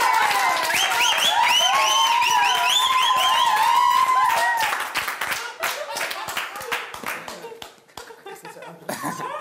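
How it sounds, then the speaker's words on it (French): A French television studio audience on a reality show awards evening breaks into loud, dense applause and cheering with whistles, which thins into scattered claps and voices toward the end. "Mesdames, messieurs, veuillez applaudir Philippe."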